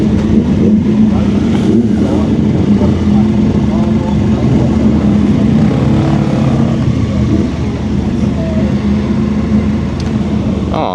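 A vehicle engine, running on the Viper Gear, hums and lowers its revs steadily as it turns around, a continuous loud drone with a voice talking over it.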